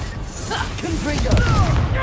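Explosive Confringo spell blasts in Hogwarts Legacy on PS5, booming bursts over a dense, rumbling battle backdrop, with a voice calling out between them.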